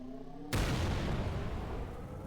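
Orbital Combustion explosion move from the Roblox game Star Glitcher: a single sudden loud boom that breaks the quiet, then a broad roaring rumble that sustains and slowly fades, with no talk.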